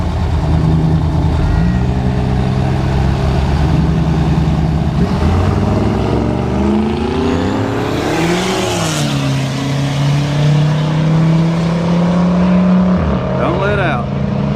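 Drag race launch at Newport Raceway as a truck and a car leave the line, engines roaring loud and revving up with a rising pitch sweep mid-run, an announcer talking over the noise throughout.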